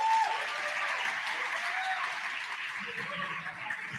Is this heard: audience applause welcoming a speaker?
yes